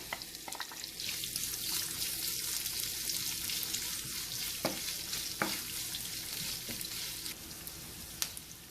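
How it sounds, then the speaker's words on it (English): Sliced onion frying with spices in a pan gives a loud, dense, continuous sizzle heard up close, with a few brief clicks and clinks over it and no talking. "I am going to add the sliced onion"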